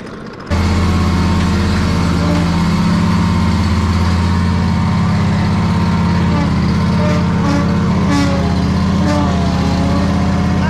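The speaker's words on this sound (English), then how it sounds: "So I'm using the Steel BG86 handheld blower." A Stihl BG86 handheld leaf blower starts up abruptly and then runs steadily at a loud, constant drone close by, on a lawn crew's mowing job, with faint clicks and sounds over the steady roar.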